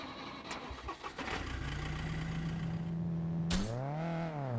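A car engine starting in the video game SCUM: after a rough background of clatter, the engine catches with a burst and revs up, then settles back down in a smooth rising-and-falling hum.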